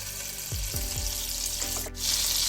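Onion and capsicum sizzle in olive oil and butter in a pan, a steady close frying hiss with a few soft clinks, no voices over it.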